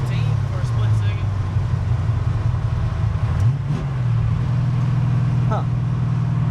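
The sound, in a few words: car engine accelerating from second gear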